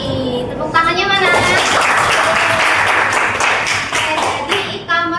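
Applause from a group in a classroom lesson, clapping that starts after a voice and builds into a dense, loud burst lasting several seconds, with voices breaking through in between.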